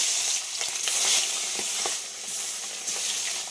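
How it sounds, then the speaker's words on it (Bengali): Fish rubbed with salt and turmeric frying in hot mustard oil, a steady loud hiss and sizzle with crackling pops that swell and ease throughout, no voices. "তেল গরম হয়ে গেছে, নুন হলুদ মাখিয়ে রাখা মাছগুলো দিয়ে দেব।"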